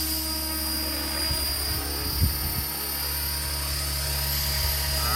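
A Tron 5.8 Heritage RC helicopter's rotor and motor spin up, giving a loud, steady high-pitched whine with a droning hum beneath and a few brief bumps, close and continuous with no talking.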